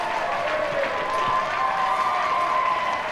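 A crowd in Prague applauds an ice skating free programme, with steady, dense clapping that fills the arena evenly for the whole stretch, with no talk over it.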